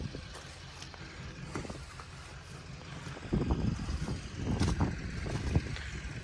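A John Deere 60 tractor engine chugs nearby in gear, with a low rumble that grows louder and rougher in the second half. No one speaks.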